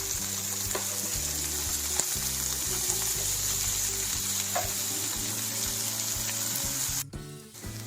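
Onions fry in oil in a pan with a steady, close crackling sizzle and occasional light stirring clinks, ending in a brief rustling shift. Nobody speaks.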